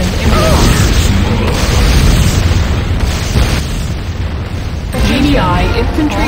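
A GDI infantry barracks in the Renegade video game explodes: loud, sustained rumbling booms and bursts fill the whole stretch, with a further blast near the end and a synthetic announcer-style voice over the destruction.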